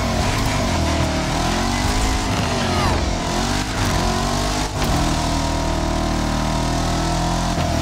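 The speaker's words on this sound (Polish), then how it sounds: "Ale mi się podoba, jak samochód wchodzi na obroty." A car engine in The Crew Motorfest racing game revs loud and close, its pitch climbing and dipping repeatedly as the vehicle drives on.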